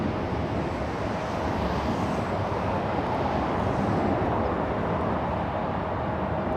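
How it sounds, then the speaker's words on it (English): A Boeing 787 Dreamliner departs LAX on the north side, bound for Narita, heard as a loud, steady broadband jet roar with a wind-like rush that holds throughout. "Looks like we have the 787 Dreamliner leaving via the north side."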